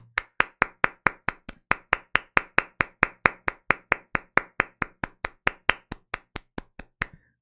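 Steady hand clapping, about thirty crisp claps in an even rhythm, close and fairly loud, with no voices.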